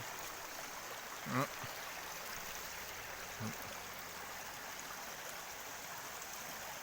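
The Sungai Mola, a river in North Sumatra running over large boulders, rushes in a steady broad wash of flowing water, with a couple of brief faint voices or knocks.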